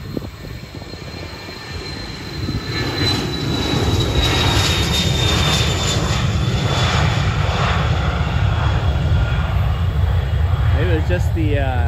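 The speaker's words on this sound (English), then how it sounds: "it sounded like he throttled up and then throttled back down. But he got airborne." An airliner at Cleveland airport throttles up for takeoff, its distant engine roar building steadily and holding loud for several seconds, with faint voices in the background.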